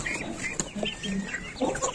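Chickens cluck and chatter amid the bustle of a village poultry market, short scattered calls at moderate distance under general crowd noise.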